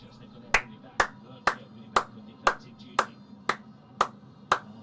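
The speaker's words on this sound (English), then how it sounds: "That deserves a clap." Steady hand claps from someone watching a live Algeria vs Equatorial Guinea Africa Cup of Nations football match: nine sharp, evenly spaced claps about half a second apart, close and fairly loud over a low background hum.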